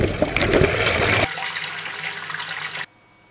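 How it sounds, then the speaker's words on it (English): Water gushes and splashes loudly into a Speidel Braumeister brewing kettle at first, then settles into a steadier, softer pouring flow before stopping abruptly. "let's start to fill the Braumeister with 55 liters of clean fresh water"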